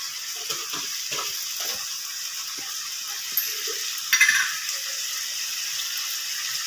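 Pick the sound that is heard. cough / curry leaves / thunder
curry leaves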